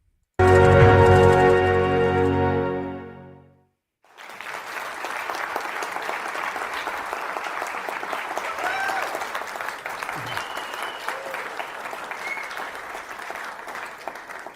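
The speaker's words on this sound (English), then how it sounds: "It's a good sign you're still clapping for me after those two last night." An audience at a live lecture event breaks into sustained, even applause after a musical intro fades, with dense clapping at moderate distance continuing to the end and faint voices mixed in.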